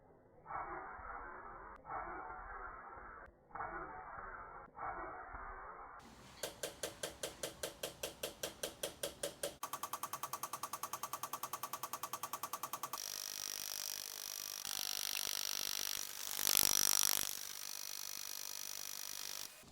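A rapid train of sharp mechanical clicks, about ten in a row, from large Bosch fuel injectors firing on a test bench, follows an electric fuel pump's whine; a loud hiss and buzzing come after. No talking.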